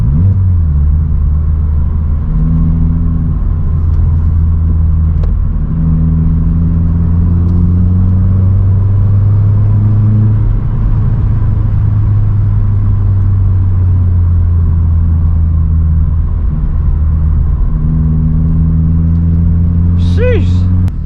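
A Vauxhall Corsa drives at night with its engine producing a steady low drone and rising and falling harmonic tones as it revs through gears. The engine is loud and continuous, with a brief higher chirp near the end.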